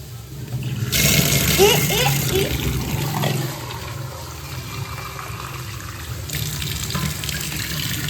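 Water runs from a tap for a few seconds, splashing into an egg-boiling vessel, then the flow quiets; faint voices in the background.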